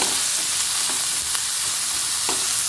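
Bitter gourd and slit green chillies frying in a pan, a loud, dense sizzle filling the whole moment with a few scraping stirs of a spoon over it.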